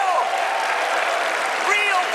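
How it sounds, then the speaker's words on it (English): A studio audience of military veterans cheers and applauds at a TV finance show taping, a steady loud wash of clapping with whoops rising above it. "some of those people are your own people that are cheering"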